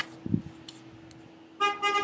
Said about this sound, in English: and listening to someone honk.